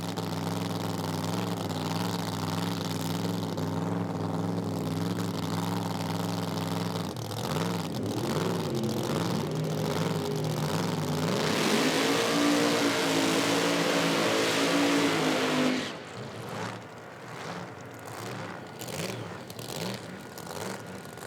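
Nitro drag race cars at an IHRA Outlaw Nitro Pro Am event in Dinwiddie, Virginia, roaring and revving loudly at the line, with a harsh wide blast around the launch before the sound drops away.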